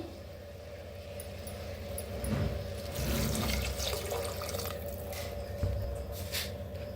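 Water pours into a pan of roasted masala for rice, rising into a steady splashing gush midway, with a few drips and clinks around it.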